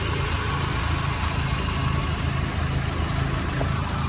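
A used Nissan Navara pickup's engine idles steadily and close by, a continuous low rumble with a fast, even pulse and no voices.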